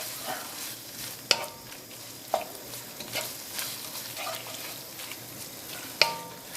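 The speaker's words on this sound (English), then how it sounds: "I'm just putting a drop of the sauce in, around about half. I'm going to mix that in." Korean-style beef frying in a pan as sauce is stirred in: continuous sizzling with several sharp utensil knocks against the pan and a wet, bubbling stir between them.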